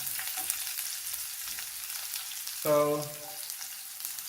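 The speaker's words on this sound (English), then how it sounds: "Add the onion." Onion frying in a pan with mustard seeds and cumin gives a steady, close sizzling hiss throughout, with a brief spoken word partway through.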